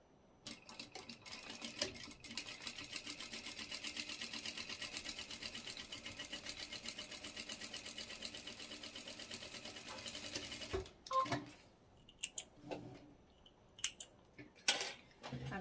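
A sewing machine stitches elastic with backstitch, a rapid, steady mechanical chatter running for about ten seconds before stopping, followed by scattered clicks and handling sounds.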